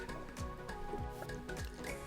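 Hot water is poured into a milk-frother jug holding matcha powder, giving a continuous close liquid fill with gurgles and squishy drips.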